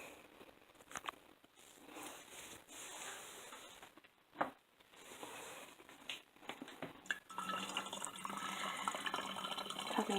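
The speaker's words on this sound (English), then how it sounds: "Topping it off with boiling water up to the neck." Boiling water is poured into a bottle of pomegranate wine up to the neck. Irregular splashes and trickles give way to a steadier, louder filling gurgle in the second half, heard close.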